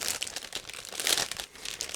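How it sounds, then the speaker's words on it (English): Resealable plastic bag of parts from an ICM 1/35 WWII US Army Kitchen Truck model kit being opened, close crinkling and rustling in quick bursts. "I will open them because it's a resealable plastic bag"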